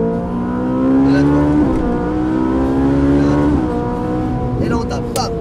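A car engine accelerates in third gear with a loud, close, rising drone. Its pitch climbs steadily, dips briefly and climbs again.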